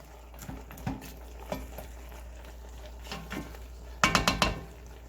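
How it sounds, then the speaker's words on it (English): A utensil stirs food in a cooking pot, giving soft scattered taps and scrapes over a quiet background, then a quick burst of metallic clinks near the end. "Make sure you keep stirring it up"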